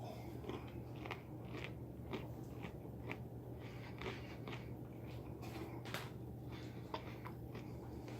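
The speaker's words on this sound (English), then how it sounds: "The nuts seem a little stale, but they've still got a crunch to them." Crunching and chewing of stale nuts from a 1998 U.S. cold weather ration, a steady run of close, quiet bites and crackles over a low background hum, with no talking.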